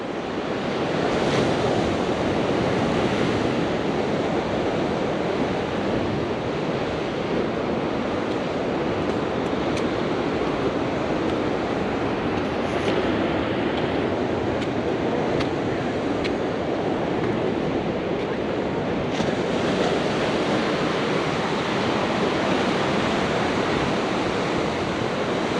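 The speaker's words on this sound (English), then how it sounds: "Just around that corner there is Ocean Beach." Ocean waves break continuously at Ocean Beach in San Francisco, a broad steady roar of surf mixed with strong wind buffeting the microphone, with no voices.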